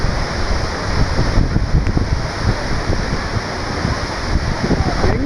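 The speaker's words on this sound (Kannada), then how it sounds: "ಹೆಬ್ಬೆ ಫಾಲ್ಸ್ ನೋಡಿ ಚಿಕ್ಕಮಗಳೂರು." Hebbe Falls in Chikmagalur roars as a loud, continuous rush of falling water mixed with gusting wind noise on the microphone, steady and enveloping from start to finish.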